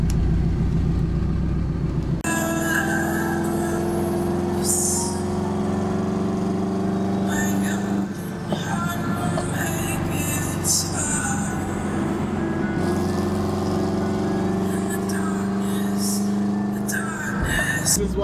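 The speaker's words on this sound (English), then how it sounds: "There's always traffic until like 8 p.m. Anywhere you go." Steady road traffic rumble near a gas station in Southern California, a continuous loud engine drone with passing vehicles and a brief dip and surge partway through, no clear talk.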